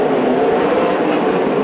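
Sprint car accelerating hard out of turn four at Coos Bay Speedway during a Western Sprint Tour race, a loud, dense, roaring engine sound holding steady throughout with no voices.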